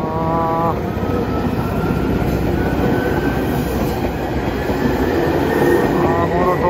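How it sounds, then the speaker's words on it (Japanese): A former Tokyu train rolls into a station on the Nagano Electric Railway with a steady rumble and rattling wheels, faint squeals and tonal whines drifting above the noise, no talking. "そして電車が入ってきました"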